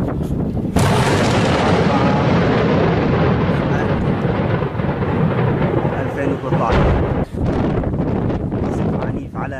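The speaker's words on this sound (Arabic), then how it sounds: "قصف عنيف على مدينة الرستم من قبل عصابات الأسد من كتيبة الهندسة كافة أنواع الأسلحة الثقيلة" Heavy artillery shelling on the city of Rastan, Syria: a loud, continuous rumbling roar of distant blasts with gusts of wind noise on the microphone, swelling and dipping for several seconds.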